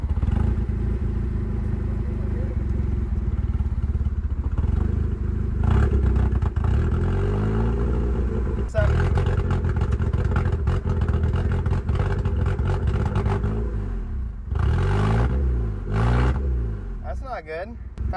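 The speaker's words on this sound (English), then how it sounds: "It's not idling too happy." A Honda Civic engine with an open header idles roughly, rumbling loudly and unmuffled, with blips of revving and rattling clatter, while people talk over it.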